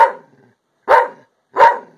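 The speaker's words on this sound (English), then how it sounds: "Do you know why you're barking, Sersha?" A pit bull barks three times, loud and close, with short pauses between each sharp bark.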